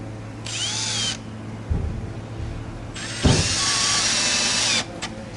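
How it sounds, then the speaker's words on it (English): Power drill driving screws at an angle into the timber frame of a window for a 70mm log cabin kit: two bursts of whirring drilling, the second longer and louder, with a low steady hum between them. "just bury the screw so it's just underneath the timber surface"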